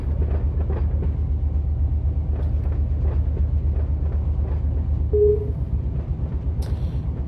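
A thunderstorm in a video game rumbles as a steady low roar throughout, with faint crackles and a brief tonal blip partway through, no voices over it.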